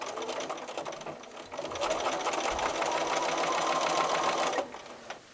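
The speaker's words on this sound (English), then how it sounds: "So now I'm going to sew a line of stitching where my pin is straight down to hold the two sides together" A sewing machine runs steadily while stitching a flange binding onto a quilt, its fast even needle chatter holding close and loud for several seconds before it stops abruptly.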